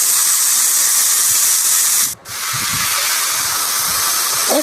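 Amaranth leaves (thotakura) dropped into a hot pan of tempering with turmeric and salt give a loud, steady frying hiss, broken by one brief gap partway through.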